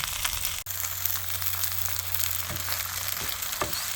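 A seafood and green onion pancake frying slowly over medium heat in a home pan, giving a steady, close crackling sizzle with a low hum beneath and no talking.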